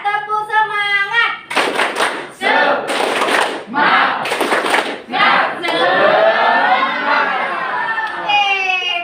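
A school class performs a rhythmic clapping chant, with bursts of claps and thumps alternating with children's voices chanting together, close and loud in a classroom.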